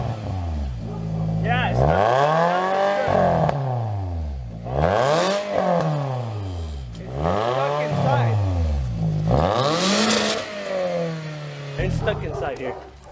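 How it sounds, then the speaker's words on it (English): A Scion tC with a muffler problem revs repeatedly, its engine note swelling and falling in several loud rising-and-dropping waves. People talk over the revving close by. "We're gonna try revving the car and see if that stuff comes out."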